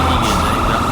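A vehicle engine runs loud and close in a short, dense, steady rumble with no clear pauses.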